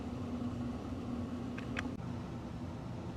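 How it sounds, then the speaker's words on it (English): A household air conditioner hums steadily in the background, a constant broadband whir with a low tonal drone, unbroken apart from a brief faint click midway; no one speaks. "The air conditioner is on."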